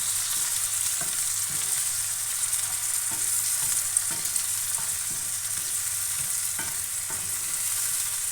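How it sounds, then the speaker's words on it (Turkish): Tomatoes, peppers and onions fry in a pan for menemen, a steady close sizzle running throughout with soft periodic scrapes of a utensil stirring the vegetables. "Şimdi domatesimi ekleyeceğim. Biraz da böyle kavuracağım."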